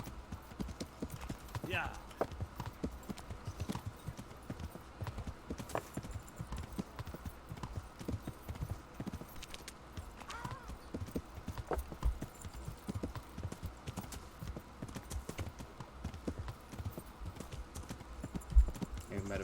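Steady clip-clop of a horse's hooves at a walking pace in Kingdom Come: Deliverance, a quiet, even rhythm running throughout with a brief spoken word over it.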